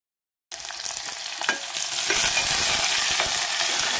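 Chopped onion, cumin seeds and curry leaves hit hot oil in a small pan, bursting into a loud, close crackling sizzle that grows denser and steadier as stirring continues, with no talking.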